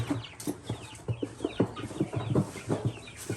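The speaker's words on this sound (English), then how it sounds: "this is the day we're putting the chickens in" Chickens cluck repeatedly in short, close bursts while being put into a new coop, with a few higher chirps mixed in over a low background hum.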